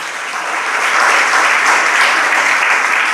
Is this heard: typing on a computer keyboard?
no